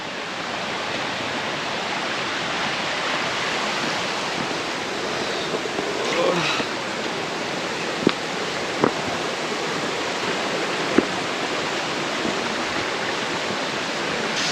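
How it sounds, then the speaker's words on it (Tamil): Zenith waterfall near Pune roars during the monsoon, a loud, dense, unbroken rush of falling water with a few faint knocks and brief distant voices mixed in. "அந்த அழகான வாட்டர் ஃபால்ஸ்"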